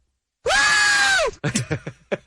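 A man lets out one long, loud, sustained scream aimed at a passing helicopter, close and strained, followed by a few short shouted bursts.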